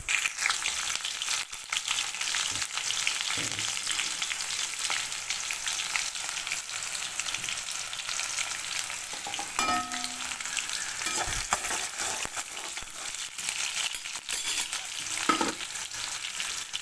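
Steady, dense sizzling of onions frying in hot oil, close and continuous, with a few brief clinks and scrapes of stirring throughout.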